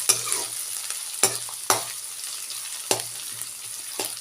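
Onion, ginger and garlic fry in a pan for a cauliflower dish, a soft continuous sizzle broken by four or five sharp scrapes of a spoon stirring against the pan.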